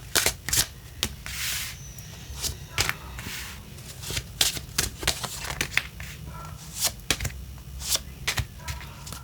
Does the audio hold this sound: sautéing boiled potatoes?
no